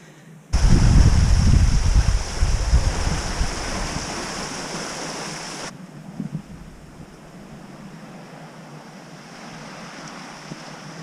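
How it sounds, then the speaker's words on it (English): Water gushes and roars loudly from a leaking canal lock, a dense rushing wash that starts abruptly, then cuts to a quieter, steady trickle and splash with faint wind. "That's one leaky lock."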